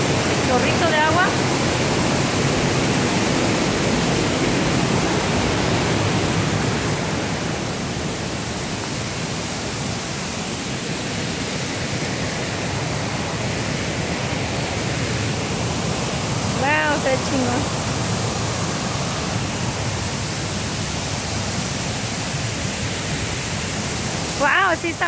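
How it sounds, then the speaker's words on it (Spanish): A jet of water gushes at an abandoned dam, Presa Escame in Tepechitlan, Zacatecas, making a loud, constant broadband roar. Brief, faint voices surface now and then beneath it. "Chorrito de agua."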